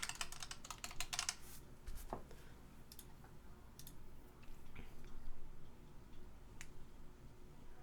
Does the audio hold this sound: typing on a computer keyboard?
yes